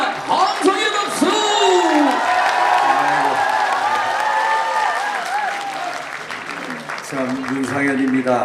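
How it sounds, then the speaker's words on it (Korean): A crowd at a political rally in a National Assembly members' office building meeting room claps and cheers loudly, with whoops and shouted voices on top, the applause sustained for several seconds and easing slightly before swelling again. "다시 한번 여러분 힘찬 함성의 박수."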